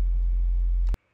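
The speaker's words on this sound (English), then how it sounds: "And of course, this is a sine wave." A pure analog synthesizer sine wave holds one loud, steady, low tone for about a second, then cuts off abruptly into near silence.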